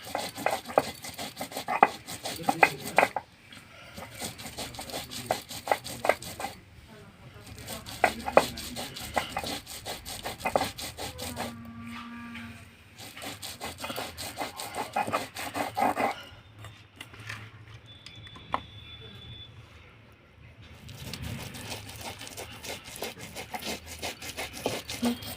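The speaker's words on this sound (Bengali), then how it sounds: "এভাবে মুসুরির ডালটাকে বেটে নিতে হবে" Masoor lentils mixed with a little rice are ground by hand on a flat grinding stone, giving a steady, close rubbing and scraping rhythm with gritty strokes that continue throughout, with brief pauses between passes.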